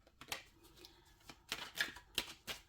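Tarot cards being shuffled and handled during a reading, a series of soft papery riffles and flicks in irregular bursts, close and fairly quiet with no talking.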